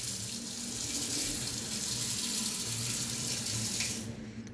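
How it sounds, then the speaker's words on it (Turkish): Cold water runs steadily from a kitchen mixer faucet fitted with a water purifier, a continuous close hiss and splash that cuts off sharply near the end. "Şimdi bu büyük kısım bildiğiniz normal musluk."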